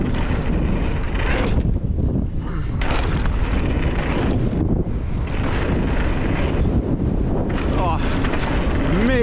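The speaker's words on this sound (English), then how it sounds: "Oh, major headwind." Strong headwind roaring across the microphone during a mountain bike ride at the Windrock bike park, a loud continuous buffeting rumble that swells and dips, with a rider's voice partly buried beneath it.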